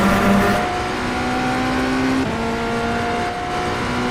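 Cadillac race car engines in the iRacing simulator roar loudly at close range, pitch climbing steadily through upshifts in one continuous high-revving drone.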